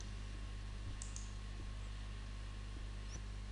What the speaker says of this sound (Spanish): Hacemos un clic en el botón Aceptar.